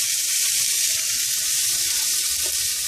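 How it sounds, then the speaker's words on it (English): Three large onions sizzle steadily in olive oil in a home kitchen pan for albondiga soup, a constant close hiss with no talking. "first we're going to saute some onions"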